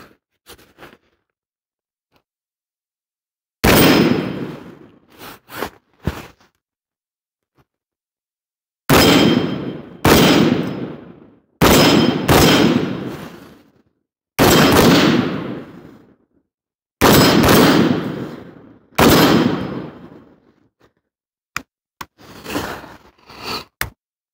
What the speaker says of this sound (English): go and send a few rounds for you, and so you can see it shoot